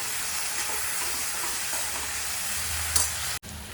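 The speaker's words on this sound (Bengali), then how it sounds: "সামান্য একটু হলুদ দিয়ে এটাকে হাই ফ্লেমে কুক করতে হবে" Food seasoned with salt and turmeric sizzles on a high flame, a constant close hiss of frying with a faint clink, cut by a sudden brief gap near the end.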